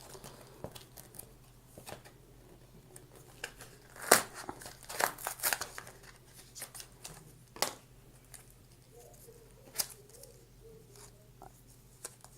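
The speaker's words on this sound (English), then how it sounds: "we can sort of quickly cut it and open it" Scissors cutting open SanDisk Extreme 256GB microSD card packaging: sparse sharp snips and plastic crinkles, a few louder cuts in the middle, close up over a faint steady background hum.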